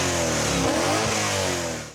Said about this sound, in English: The E92 M3 is the only generation of M3 with a V8 in it, and it's also the last naturally aspirated M3